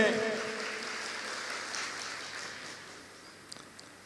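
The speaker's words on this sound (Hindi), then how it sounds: "ईश्वर के लिए ताली बजाए, धन्य के लिए ताली बजाए।" A congregation at a Christian worship and prayer service claps together, a dense wash of applause that starts loud and gradually fades over a few seconds.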